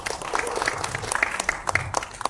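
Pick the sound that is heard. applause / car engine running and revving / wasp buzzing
applause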